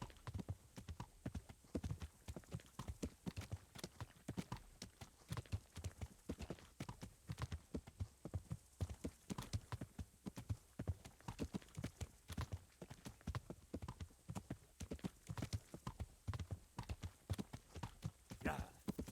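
Horse hooves clip-clop in a video game, a fast, steady stream of close hoofbeats running throughout with no pause.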